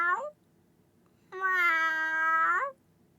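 A person imitates a cat's meow: a short clipped mew at the start, then after a pause a longer, drawn-out meow with a rising-falling tail, close and clear against near silence.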